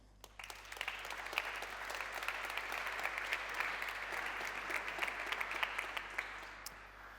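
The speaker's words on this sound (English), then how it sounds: "please, a big applause." A crowd applauds steadily throughout, a dense wash of many hands clapping at an even level without a voice over it.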